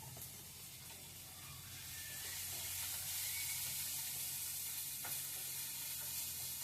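Chopped cabbage sizzles steadily in a hot pan for Maggi noodles, a close, continuous frying hiss that swells slightly midway, with occasional stirring scrapes.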